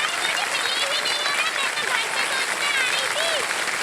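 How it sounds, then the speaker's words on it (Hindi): A studio audience on a television quiz show claps in a dense, sustained roar of standing applause, with cheering voices mixed in throughout. "और देखिए सब खड़े होकर के ताली बजा रहे हैं आपके लिए।"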